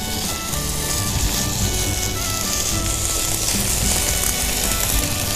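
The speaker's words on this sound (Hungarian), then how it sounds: "Hallatszik, hogy süttereg, forró az olaj." Pork tenderloin fries in hot oil in a pan, giving a steady, close, even sizzle and crackle throughout, with no voices.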